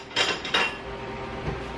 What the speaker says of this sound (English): making sure all these dishes are thrown away because we got some new dishes in here